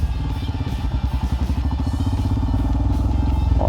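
Royal Enfield Himalayan motorcycle climbing a rough trail, the single engine thumping in a steady rapid beat with clattering and knocks over the ground, loud and close throughout.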